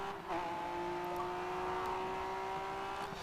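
Race car engine droning at steady high revs in the GRID 2 racing game while slipstreaming an opponent, a constant tonal whine with no speech.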